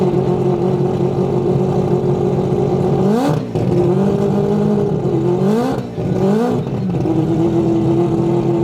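A four-rotor rotary engine in an all-wheel-drive car revs in repeated rising sweeps, dipping and climbing again several times, loud and close, with a steady high whine between the revs.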